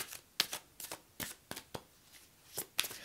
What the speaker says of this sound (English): let's pull a creativity oracle card